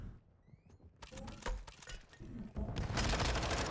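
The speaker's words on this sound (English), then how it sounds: "taking some gunfire" Gunfire in a Call of Duty esports match breaks out after a quiet start, a run of sharp shots growing into loud, dense bursts toward the end, with faint background talk.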